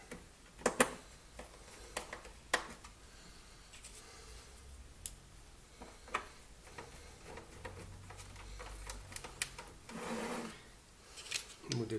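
Screws being driven by hand while assembling a Coleco Adam computer power base, with close scraping, rasping and ticking turns, irregular taps and small clatters of parts, and no talk.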